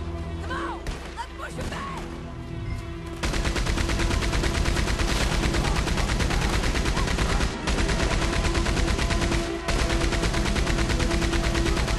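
Rapid, continuous gunfire in Red Dead Redemption 2, fired into the woods during a fight. After a quieter opening with some voices, dense bursts of shots carry on loud and close for most of the clip, with two brief gaps.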